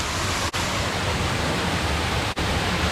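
Bilog Falls in Lagonoy, Camarines Sur, a steady dense rush of falling water, loud and close, unbroken apart from two brief dropouts.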